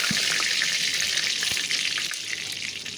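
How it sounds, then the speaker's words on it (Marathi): Onion sizzles in hot oil with cumin, bay leaf, cloves and black pepper for a veg pulao in a pressure cooker, a steady close crackling hiss with a few sharp pops and no speech. "फोडणी छान तडतडल्यावर त्यामध्ये कांदा घालूया."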